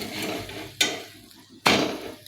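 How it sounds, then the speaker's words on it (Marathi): Sabudana thalipeeth roasting slowly in ghee on low heat in a pan, a steady soft sizzle broken by two sharp scraping or tapping hits of a spatula. "मी याच्याकडून या तूप ओतत आहे आणि खालच्या साईडनीही चांगलं खरपूस भाजेपर्यंत असंच ठेवणार आहे कमी गॅसवरतीच भाजून घेणार आहे"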